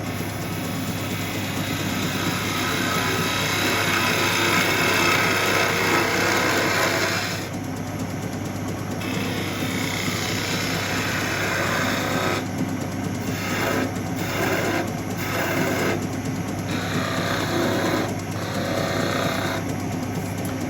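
Wood lathe turning an acorn finial: a steady loud motor hum runs throughout, with tool cutting noise over it that drops out and returns in short intermittent passes, no talking.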